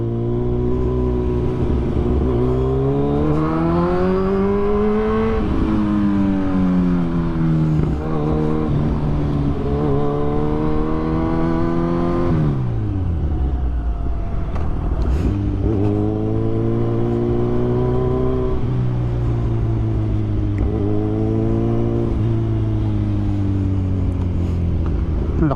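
A Kawasaki Z1000 motorcycle engine on the road, loud and close, revving up through the gears in repeated rising sweeps, dropping on each shift, with a deep throttle-off dip midway before climbing again.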